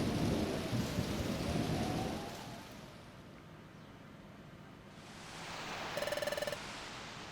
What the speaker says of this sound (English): It sounds like a storm is coming.